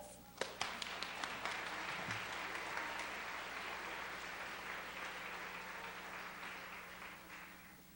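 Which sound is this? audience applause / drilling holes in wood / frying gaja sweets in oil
audience applause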